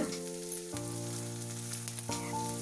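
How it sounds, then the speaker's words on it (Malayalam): Sprouted green gram and carrot thoran sautéing in a pan gives a steady, close sizzle with faint stirring scrapes and no talk. "ഇനി നമുക്ക് നന്നായിട്ടൊന്ന് വഴറ്റിയെടുക്കാം."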